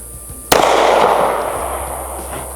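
A single sharp, loud gunshot from a Kimber CDS9 9mm pistol cracks out during a range session, followed by a long, diffuse echo that slowly fades over the next two seconds.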